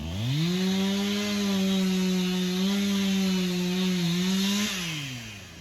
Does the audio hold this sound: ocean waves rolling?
no